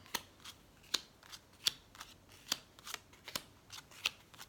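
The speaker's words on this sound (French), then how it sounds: "Alors, on va prendre 9 cartes." Tarot cards being drawn one by one from a deck, crisp papery snaps and slides in a steady rhythm of about two per second, close and quiet, with no talking.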